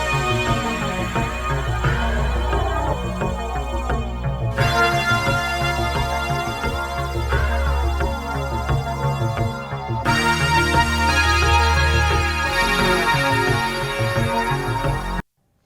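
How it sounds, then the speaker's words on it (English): A Synclavier factory patch, Horn with Xylo, plays a lead line, a bright mallet-like attack over a brassy tone with a continuous melodic phrase over a dense synth backing, ending abruptly. "This is also a factory sound from the original called Horn with Xylo"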